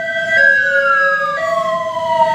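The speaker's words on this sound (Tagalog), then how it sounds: "Ambulansya nga." A wailing ambulance siren sweeps up and down in pitch, loud and close, with a faint road rumble underneath, as it passes by.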